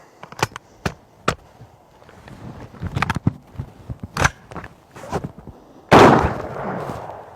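An AR-15 rifle fired outdoors until it overheats and fails, heard as loud sharp single shots and quick doubles spaced irregularly, ending in a long harsh blast at the close; nobody talks.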